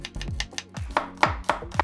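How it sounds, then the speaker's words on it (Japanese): A knife finely chopping two small onions on a cutting board, about seven crisp, evenly spaced strikes heard up close, with no talking. "玉ねぎ小2個はみじん切りにします。"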